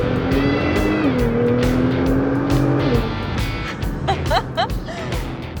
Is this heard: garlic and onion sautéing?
no